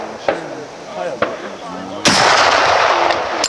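Gunfire at a shooting range at Bisley: two loud isolated shots with echoing tails, then a third shot followed by a sustained burst of rapid firing, while someone talks underneath.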